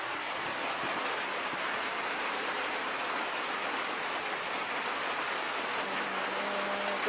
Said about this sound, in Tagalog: Biglang babagsak yung ulan, sabay hangin.